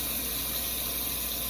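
Hot water runs steadily from a kitchen tap into a sink to wash a dirty lid, giving an even, continuous close-up rush with no talking.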